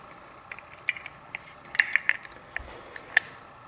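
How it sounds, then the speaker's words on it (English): Metal bump key worked in and out of a pin tumbler lock, giving a series of sharp, close mechanical clicks and ticks at irregular intervals over quiet background. "you insert it all the way in the lock, pull it out. Just one notch or one click."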